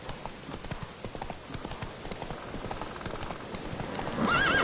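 Horse hooves clip-clop steadily at a gallop in The Witcher 3: Wild Hunt, with a neigh rising near the end, close and fairly loud throughout.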